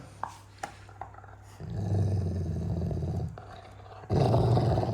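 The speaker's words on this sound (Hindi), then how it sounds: "गुर्राता है मेरे पे, मालिक को गुर्रा है" A dog growls low and rumbling in two long stretches, close up, with a few sharp clicks and knocks before the first.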